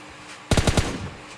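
A short burst of automatic gunfire in the mobile battle game PUBG Mobile Lite: four or five rapid, loud shots fired close together, followed by a brief fading tail.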